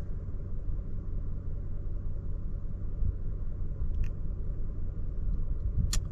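A vehicle climbs a rough mountain track, its engine producing a loud, continuous low rumble close up, with occasional knocks and rattles from the uneven surface.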